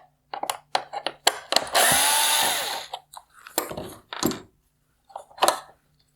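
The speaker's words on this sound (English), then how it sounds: "remove the T15 torque screw holding it on the side" A T15 Torx screw comes out of a 2019-2022 Nissan Altima OEM LED headlight housing with close, sharp clicks and scrapes from the tool, one longer rough rasping burst, and then scattered clicks separated by silence.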